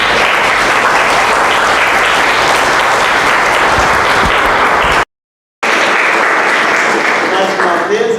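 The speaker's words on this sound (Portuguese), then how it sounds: "essas palmas, esses aplausos não é para nós" Enthusiastic audience applause fills a church Christmas gospel event, a dense, loud, steady clapping that cuts out briefly for about half a second before resuming at the same intensity.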